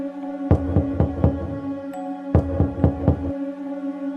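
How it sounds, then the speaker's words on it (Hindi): Two sets of four firm knocks on a hotel room door, room 306, each burst loud and close with a short pause between, over a low steady hum. "मेड ने कमरा नंबर 306 का दरवाजा खटखटाया।"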